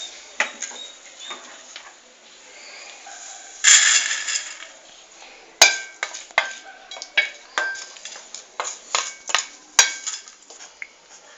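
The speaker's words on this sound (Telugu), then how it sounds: "కొంచెం బ్రౌనిష్ కలర్ వచ్చినంత వరకు ఫ్రై చేసుకోవాలి." Vermicelli frying in a pan as a utensil scrapes and clinks against the metal in irregular stirring strokes, with a soft sizzle underneath, close and fairly quiet.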